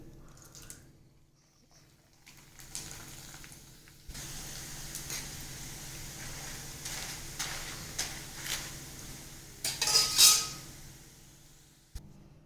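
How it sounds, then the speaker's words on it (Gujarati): Corn poha flakes fry in hot oil for a Gujarati murmura chivda, a quiet start giving way to a rising bubbling sizzle with scattered crackles and spatters, close and unaccompanied by speech. "હવે આપણું તેલ ગરમ થઈ ગયું છે. આપણે તેમાં મકાઈના પૌવાને તળી લઈશું."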